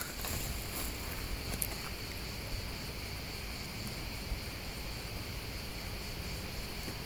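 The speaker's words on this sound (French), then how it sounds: "Il y a encore les cigales." A dense, steady chorus of cicadas shrills on without pause in a cemetery on a summer night, high-pitched and even, with faint rustling now and then and no voices.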